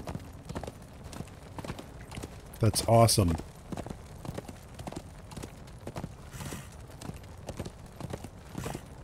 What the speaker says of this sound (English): My horse actually has the ability to jump off of something.